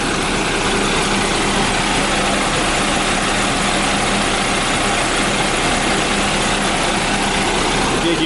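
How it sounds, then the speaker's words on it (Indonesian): A Volvo B11R bus engine idles close by, a loud, unbroken low rumble with a steady hum holding constant throughout, no voices. "Ini mesin dari Volvo B11R."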